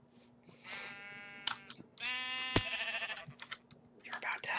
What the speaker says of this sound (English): a giant sheep in the air. We should kill him.